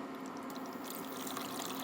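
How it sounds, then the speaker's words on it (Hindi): A little water pours into a simmering beef kofta curry, a faint, soft splash and trickle that lasts about a second under low kitchen background noise. "थोड़ा सा मैं पानी डालूँगी"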